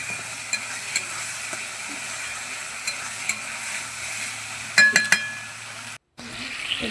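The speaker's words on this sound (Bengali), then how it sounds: "এবারে টমেটোটাকে ভালো করে কষিয়ে নিচ্ছি মশলার মধ্যে।" Tomato sizzles steadily as it is stir-fried in spice masala for a chicken-leg-skin and cabbage curry, with soft scraping, a few clinks of a utensil near the end, and a brief silent gap.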